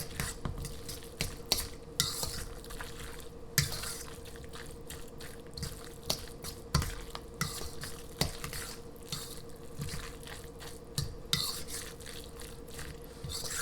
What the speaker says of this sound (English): now we're just going to mix that all in